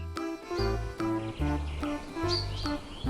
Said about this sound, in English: Lesser goldfinch.